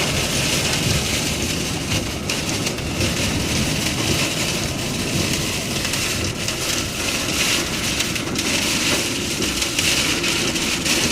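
Heavy rain pounds a road and vehicle during a drive, a loud, dense, continuous roar of water and spray with wind noise and no pauses.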